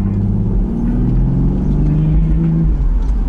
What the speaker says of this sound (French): vous entendez un peu d'échappement